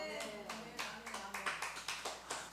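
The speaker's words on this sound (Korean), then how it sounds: "박수하려면 크게 좀 하시고" A congregation at a Korean church's Friday worship service claps in a regular, rhythmic beat, soft and somewhat distant, with a voice heard over the first part.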